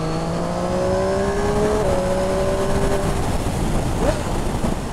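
A Triumph Street Triple 765 RS motorcycle from 2020 riding at speed, its engine note rising and holding in steady tones with a brief dip as it shifts, loud continuous drone mixed with wind rush, no clear speech.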